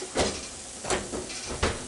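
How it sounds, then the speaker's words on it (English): An oven door in a home kitchen is opened, with three soft scraping clunks spaced evenly apart over a low background hiss. "I'm going to open this door to the oven"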